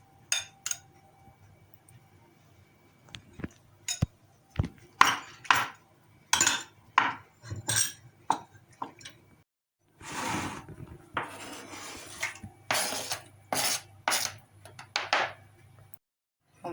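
Peeled tomatoes being cut on a board during a stuffed courgette recipe, with a series of sharp knife taps and chops in short bursts. Scattered dish and utensil clatter comes through a quiet kitchen, and there is no talk.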